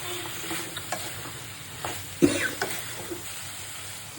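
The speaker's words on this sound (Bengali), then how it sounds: "শুটকি কষানো হয়ে গেছে, সাজনাগুলা দিয়ে দিলাম।" Thick, tough drumsticks stirred into dried loitta fish frying in a pan, a low steady sizzle with a few sharp scraping clacks of the spoon against the pot.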